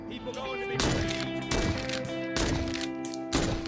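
A lever-action rifle fires in The Walking Dead: Saints and Sinners, four booming shots spaced roughly a second apart, each ringing out over a sustained musical tone and steady game ambience.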